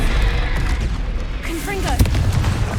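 Confringo fire spell from Hogwarts Legacy, heard as a steady booming, rumbling blast with crackle, sustained throughout and rising again near the end under faint game voices.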